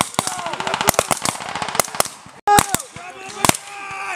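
Rapid bursts of gunfire crack out close by during a military field exercise, a fast string of shots followed by a brief pause and a few more loud reports, with people shouting over it.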